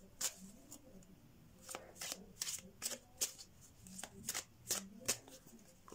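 Tarot cards shuffled by hand at close range: quick crisp riffling bursts, about a dozen in a loose irregular rhythm, quiet and intimate with no other sound.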